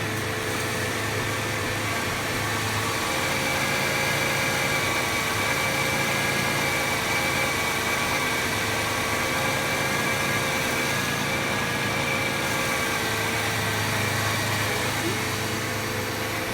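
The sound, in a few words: 1993 Chevy Lumina APV engine idling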